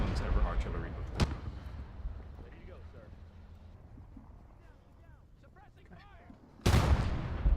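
Artillery bombardment in Gates of Hell, with distant thuds early on, quieter wind-like ambience and chatter in between, then a sudden loud close blast near the end.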